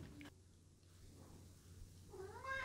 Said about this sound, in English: if you guys hear a cat meowing on the background,